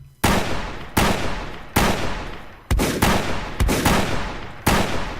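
Six loud, sharp hunting rifle gunshots in the survival video game Rust, spaced irregularly about a second apart, each with a long decaying tail.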